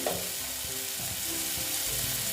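Boiled peas with turmeric sautéed in a pan for ghugni, a steady, close sizzle of frying with faint stirring scrapes underneath, continuous throughout.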